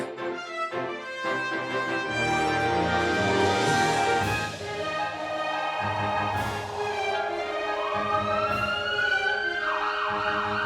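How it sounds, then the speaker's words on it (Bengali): Cartoon ambulance sirens wail loudly in overlapping rising and falling tones, with several sirens sounding together and no speech over them. "এ তো দেখছি অ্যাম্বুলেন্সের মেলা বসে গেছে।"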